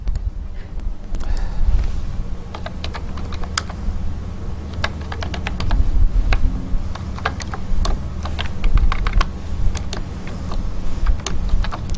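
Rapid clicking keystrokes on a computer keyboard as C++ code is typed, irregular bursts and short pauses, close and alone without speech.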